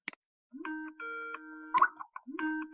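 A short electronic ringtone-like melody of steady tones and chimes, Skype's speaker test sound, plays through a speaker, clear and alone, after a brief click at the start.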